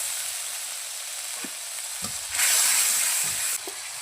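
Red chili powder, coriander powder and cumin paste fry with a splash of water in a pan over a clay stove, giving a steady close sizzle that swells louder midway, with occasional soft stirring scrapes.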